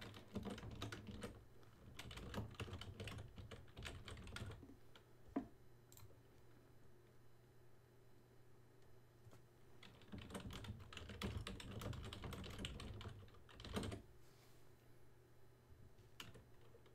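Loud computer keyboard typing in two bursts of rapid, uneven clicks with a quiet stretch between, close and intimate in a binaural ASMR livestream setting, no talking.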